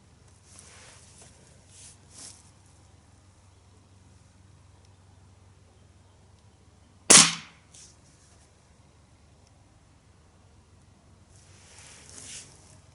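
A Gamo Viper Express .22 air rifle fires a single pellet at close range, one sharp loud crack standing alone amid quiet surroundings, with faint shuffling before and after.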